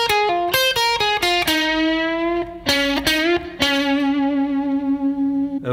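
Distorted electric guitar plays the third section of an intro, a run of sharp picked notes and bends with sustained ringing tones, loud and close with no talking.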